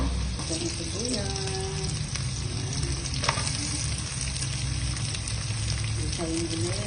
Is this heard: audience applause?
no